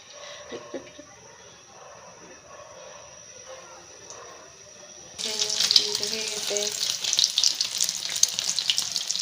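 An egg hits hot oil in a pan and breaks into a loud, steady sizzle partway through, following quieter kitchen sounds.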